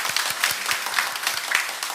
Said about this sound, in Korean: 우리 축복의 박수 보내주시겠습니다.